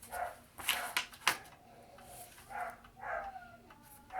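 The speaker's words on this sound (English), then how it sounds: "That dog! He's upset about something." A dog barking and yelping indoors, a handful of short, moderately distant barks spaced irregularly, fairly faint against room noise.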